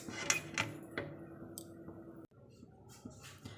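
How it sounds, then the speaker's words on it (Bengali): A metal tiffin box set down on a stand inside a water-filled wok for steaming, giving a few sharp metallic clinks and clatters close by, followed by quieter taps. "এখন এই টিফিন কৌটোটা বসিয়ে দিচ্ছি"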